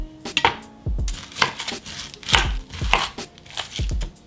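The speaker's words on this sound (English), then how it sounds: "then I'm gonna cut the onion and the garlic" Knife chopping onion and garlic on a cutting board for a simple tomato sauce, sharp repeated chops in uneven bursts, close and fairly loud with no talk.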